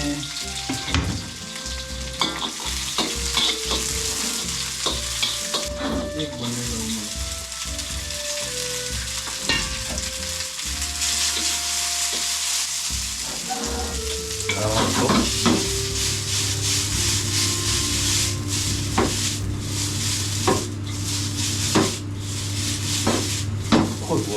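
Garlic stir-fries in a pan with a loud, steady sizzle, punctuated by frequent spatula scrapes and knocks against the pan and occasional clinks of pots and utensils.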